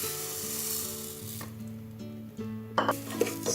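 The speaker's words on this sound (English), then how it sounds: "Stir it properly." Gobindobhog aromatic rice stirred in a pressure cooker, a soft scraping and rubbing with faint sizzle, with a few sharper clinks of the spoon against the metal pot near the end.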